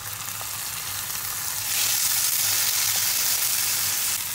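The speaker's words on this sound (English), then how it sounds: "Now we're going to carefully add in the tomatoes" Tomatoes and chili sauté in a pan of golden onions for egg pulao, a steady sizzle that swells into a louder, hissing fry partway through, close and continuous with a low hum underneath.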